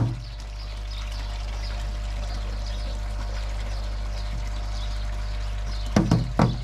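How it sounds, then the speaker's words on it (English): Fresh water trickles steadily into a koi pond, a continuous soft pour close to the microphone, with a few brief splashes or knocks near the end. "So I've got fresh water trickling in."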